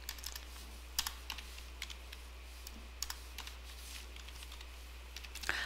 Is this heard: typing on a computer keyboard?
yes